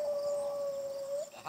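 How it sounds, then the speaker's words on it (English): A beagle hound dog lets out one long, steady howl outdoors near weeds and cattails, sustained and close, fading at the end. "A hound dog. It's a beagle."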